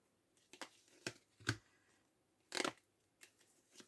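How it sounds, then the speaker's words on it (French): Oracle cards are shuffled and drawn from a deck, with several short separate rustling flicks and one longer riffling burst, close and quiet with no talking. "Allez, je vais prendre 3 cartes."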